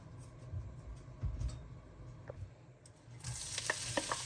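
Onion frying in a little oil gives a faint, muffled scraping at first, then breaks into a brighter, close sizzle with a few crackles near the end.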